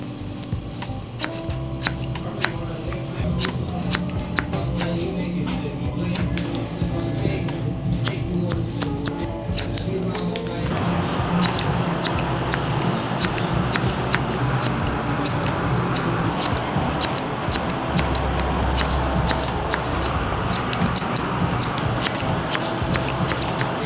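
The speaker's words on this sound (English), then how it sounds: "continue the process until we're done cutting this whole left side" Barber's scissors cutting hair during a low taper mullet haircut, a fast run of crisp, close snips that continues steadily, with a faint voice in the background at times.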